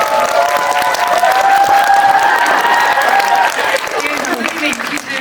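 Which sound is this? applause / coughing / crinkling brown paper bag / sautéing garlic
applause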